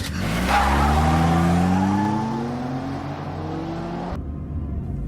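A car pulls away fast in a tense thriller scene, engine revving loudly with a rising whine and tire squeal for about four seconds before cutting off abruptly.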